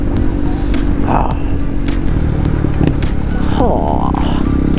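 A KTM Duke 390 motorcycle ridden off-road rumbles loudly and continuously with a deep exhaust roar close by, engine note rising and shifting, with some scraping and clatter mixed in.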